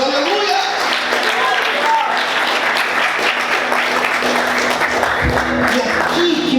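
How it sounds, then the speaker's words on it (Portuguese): A church congregation applauds loudly during a sermon, dense clapping mixed with voices and cheering over a musical background. "Vamos aplaudir Jesus bem forte."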